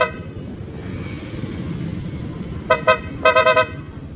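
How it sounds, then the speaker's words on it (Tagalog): Dual horn on a Honda Genio scooter sounds over a low idling rumble: two separate loud honks, then a quick rapid burst of four beeps, all close by. "Tapos yung dual horn nandito rin."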